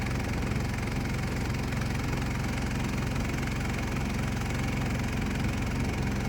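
A boat's motor drones loud and steady throughout, a dense unbroken engine rumble with rapid low knocking pulses and no voices.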